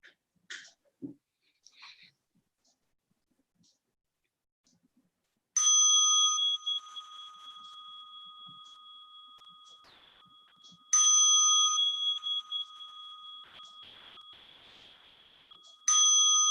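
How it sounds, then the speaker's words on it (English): A meditation bell is struck three times at roughly five-second intervals, each clear ringing tone sustaining and slowly fading, after a few faint handling sounds and breaths at the start. "Let me pick up my bell."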